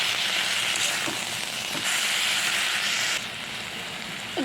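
Spice masala with coriander powder frying in a pan after a splash of water, a steady close hiss of sizzling that softens partway through, with no talking.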